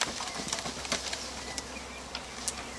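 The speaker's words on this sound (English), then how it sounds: "You got a bag full of bees." Honey bees buzz inside a bag, a dense, continuous close hum with scattered louder whirs as individual bees move near.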